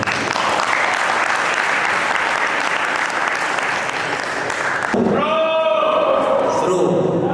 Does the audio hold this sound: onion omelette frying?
no